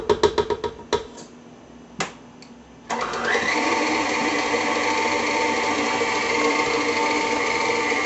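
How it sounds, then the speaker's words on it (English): Electric mixer blending cream cheese and sugar into cheesecake batter: a few sharp knocks and short bursts, then a steady whirring motor hum that runs loud and continuous to the end. "make sure that all of the sugar gets blended in to the cream cheese"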